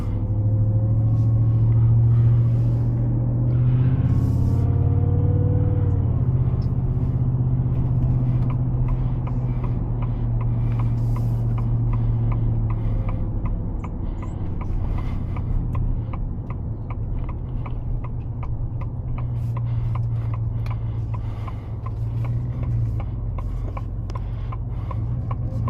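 A pickup truck with a lifted look, a 24 model, rumbles along while driving, its engine holding a deep, steady drone with a shifting pitch early on and a faint rhythmic mechanical ticking layered over it, no talking.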